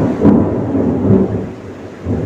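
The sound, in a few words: thunder in FIFA Mobile 23 stadium, video game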